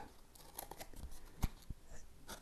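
Scissors snipping around the inner circle of a paper counting disc, a few quiet, scattered cuts with one sharper snip near the middle, heard alone.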